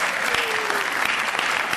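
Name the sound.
applause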